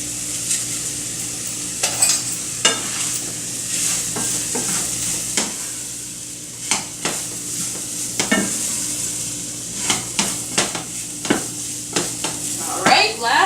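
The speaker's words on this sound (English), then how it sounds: "1/3 cup quantities just so I can stir them around a little bit, absorb some of the oil from the sausage" Zucchini canoe filling being stirred and scraped in a pan with sausage and a little oil, a continuous sizzle broken by repeated clacks and scrapes of the utensil against the pan, close and fairly loud.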